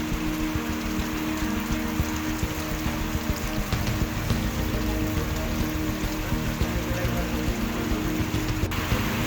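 Steady rain falls on a mountain trail on the Madhmaheshwar pilgrimage route, a dense, even patter that holds throughout with no talk.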